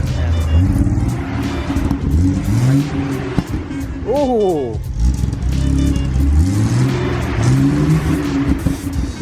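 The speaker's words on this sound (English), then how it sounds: "my dad said he's gonna rev the car" A 1978 Honda Civic SB2's engine revving up and dropping back several times in close succession, loud and near, with a brief excited exclamation from a person partway through.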